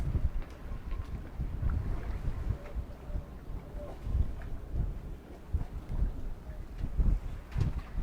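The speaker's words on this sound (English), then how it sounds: "So the wind is picking up." Gusting wind over open water aboard a boat, low rumbling buffets rising and falling in uneven waves, with faint creaks and slaps in the background.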